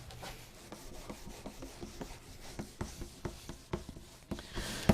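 Sandpaper rubs back and forth to level a surface, a series of soft, rhythmic scratchy strokes close up, quiet and unaccompanied, growing slightly stronger toward the end.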